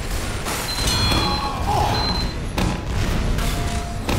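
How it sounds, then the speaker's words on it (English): Sticky bomb explosions in Team Fortress 2 ring out as loud, booming blasts amid dense, continuous game combat noise, with muffled thuds and crashes packed together over a few seconds. "One sticky bomb."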